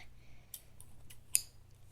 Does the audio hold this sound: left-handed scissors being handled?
yes